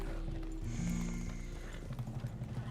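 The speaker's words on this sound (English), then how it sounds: "Settle down now, horse." Horse in the video game Red Dead Redemption 2 clip-clopping with hooves and giving a whinny, heard close and steady over low game ambience, with no talk.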